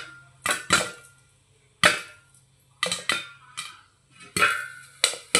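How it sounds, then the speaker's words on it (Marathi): Popcorn kernels bursting in a covered pot on the stove, sharp hard pops arriving in separate clusters with short quiet gaps between them, close and fairly loud, with no voices. "बघा आता पॉपकॉर्न फुटायला सुरुवात झालेली आहे।"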